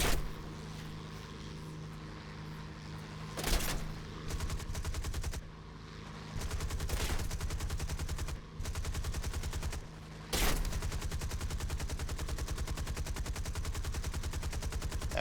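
An aircraft's defensive gunner fires repeatedly in War Thunder: rapid, evenly spaced shots in long bursts over a steady engine drone, with several louder impacts or bangs punctuating the run.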